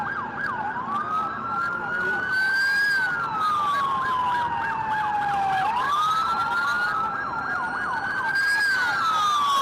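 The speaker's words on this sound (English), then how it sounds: "More police cars." Police car sirens wail continuously during anti-Trump protests in Los Angeles, rising and falling in long sweeps with layered overlapping tones, loud and close over street noise.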